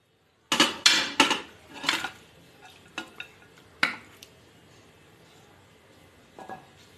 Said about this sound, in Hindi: अब इसमें डालूंगी बीफ।